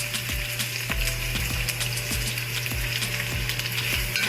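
Onions frying in about two tablespoons of oil in a pan for curry shrimp fried rice, a loud steady sizzle with regular scraping stir strokes and a low hum underneath, no talking.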